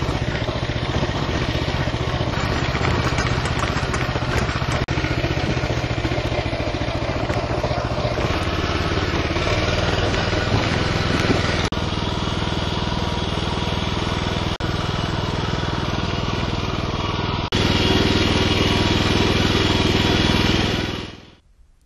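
A KM8 single-axle walking tractor runs in fourth gear, its small engine droning loud and steady throughout with slight shifts in pitch, then cutting off abruptly at the end.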